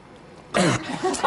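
A single short cough or throat-clearing, close and fairly loud, after a moment of quiet room tone.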